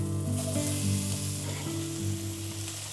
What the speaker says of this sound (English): I'm going to add a little bit more to saute my onions